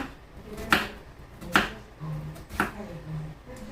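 A knife chops through onions on a cutting board in a home kitchen, three sharp, spaced strikes standing out close and clear over faint background clatter.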